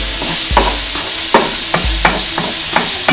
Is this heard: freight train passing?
no